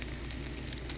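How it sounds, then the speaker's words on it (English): Food sizzling and frying in a home cooking pan, a steady dense crackle with a few brighter pops near the end, heard close up with no talking. "What you think this is sizzling in this pan?"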